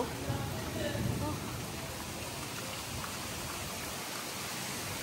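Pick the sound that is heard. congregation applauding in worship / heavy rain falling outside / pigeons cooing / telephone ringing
heavy rain falling outside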